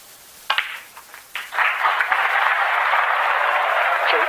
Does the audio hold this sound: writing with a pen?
no